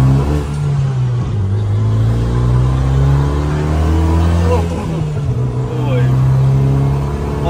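A supercar's engine drones steadily as it accelerates along a highway, heard from inside the cabin. The low tone is loud and continuous and rises gradually in pitch.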